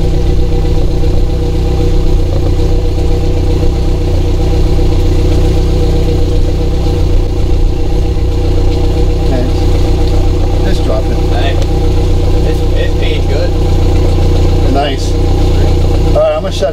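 A Yamaha F70 outboard engine on a Classic Montauk 17 idling close and loud in a steady even drone, with a person talking over it.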